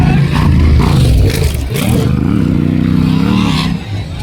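Big bikes race around a motocross track, engines revving loud and close with rising and falling pitch, one machine surging past as others drone underneath.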